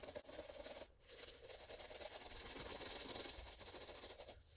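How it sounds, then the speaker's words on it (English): A brush scrubs a shoe in quick, continuous strokes, making a faint, dry, rasping scratch that pauses briefly near the start and then runs steadily on its own. "You continue to scrub."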